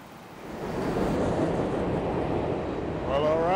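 A very noisy train passing outdoors, a loud steady roar with wind buffeting the microphone and a rising squeal toward the end.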